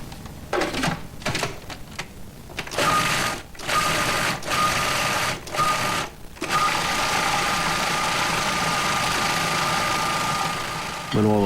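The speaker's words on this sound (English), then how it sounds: "putting the fish and smoked whitefish into a food processor and pureeing it until smooth" A food processor purees fish and smoked whitefish for a mousse with a loud, steady motor whir. Pulsed bursts open the clip, then the motor settles into one continuous run, close and alone.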